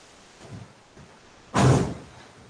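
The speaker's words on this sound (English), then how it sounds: "I'll just close the door and come 1 minute" A door closed during heavy rain, heard as a single loud thud near the middle following a few soft bumps, with faint rain hiss in the background.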